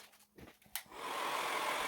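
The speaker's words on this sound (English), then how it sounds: "using a hairdryer to dry it up" A hair dryer switches on after a few soft handling bumps and a click, then blows a loud, steady close whoosh over spray paint artwork.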